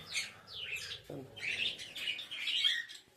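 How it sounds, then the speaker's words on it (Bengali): Pet birds kept at home chirp and tweet in quick, bright bursts, fairly close and continuous, with a brief low thump partway through and no talking. "আর এই হলো আমার পাখিগুলো"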